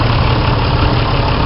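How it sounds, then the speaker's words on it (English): A 45-horsepower Allis-Chalmers diesel tractor idles at a harvest reunion show, a steady, loud low rumble with a dense, even mechanical drone throughout and no talking. "That's a powerful little tractor."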